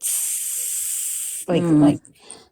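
A voice imitates bleach fizzing on carpet with a long, steady hiss lasting over a second, followed by a short voiced sound and fading breathy noise.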